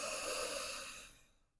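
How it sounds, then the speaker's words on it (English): One slow, deep breath drawn in during a Pilates stretch, airy and close, fading to near silence at the end with no talking. "we're just going to breathe in nice and deeply"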